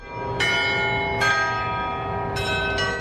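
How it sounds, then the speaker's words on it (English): Chapel bell tower ringing in Rome, heard from a hotel room: four loud, ringing strikes at uneven intervals, each decaying into a sustained metallic hum over a low background murmur. "waking up from the sound of the bell tower of this chapel"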